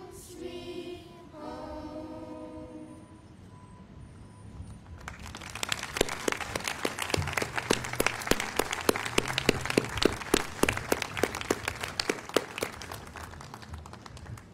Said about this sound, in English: How about another great round of applause?